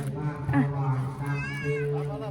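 A cat meows from inside a bathroom, giving several drawn-out, pleading cries in close succession, with a person talking in the background.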